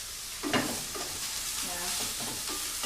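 Mushrooms seasoned with salt, pepper and a woody herb sizzle steadily in a frying pan as they are stirred, a close, continuous hiss with soft scraping strokes.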